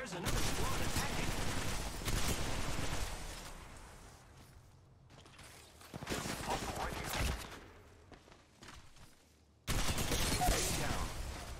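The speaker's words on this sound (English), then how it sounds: "Opening fire on the enemy." Automatic and burst gunfire from Apex Legends Mobile gameplay, loud rapid volleys that come in several bursts with short quieter gaps between them, mixed with game voice lines.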